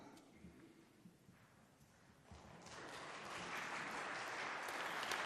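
Faint audience applause at a presentation on the Psalms, rising gradually from a soft patter into a fuller, steady wash of clapping.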